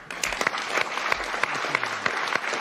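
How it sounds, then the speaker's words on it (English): An audience in a conference room at a digital assets summit bursts into sustained applause, dense crackling claps running throughout at a steady loud level. "I said I wouldn't do this meeting unless I had at least 4 totally spontaneous rounds of applause"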